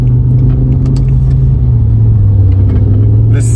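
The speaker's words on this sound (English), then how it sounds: "The second I hit that throttle from first from a dead stop, I literally jumped back again." BMW M5 E60 accelerating hard in race mode, a loud deep engine rumble with a steady low drone, heard close from inside the car.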